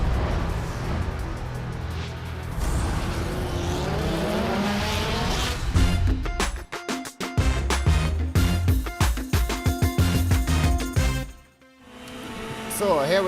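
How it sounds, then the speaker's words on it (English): A DTM race car at speed around the Zandvoort circuit, its engine roaring loud and close with rising gear pulls, rapid downshift blips under hard braking, and a short lull before it climbs again, with commentary running over it. "he's going to take us on a high-speed lap of the Zandvoort circuit right now"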